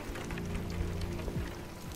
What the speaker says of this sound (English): Bloody raining, isn't it?